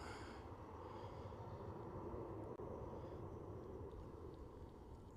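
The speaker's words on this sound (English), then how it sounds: "looking pretty awesome against the blue sky over Manchester at the minute is the Emirates A380." An Emirates A380 airliner arrives at Manchester Airport, its engines a distant, steady roar that holds evenly throughout, with a brief faint click partway through.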